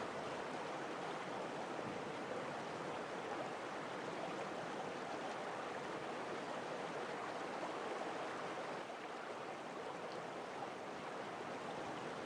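Water flowing steadily through a qanat channel in Yazd, Iran, a continuous rushing wash that stays even and unbroken throughout, with no voices.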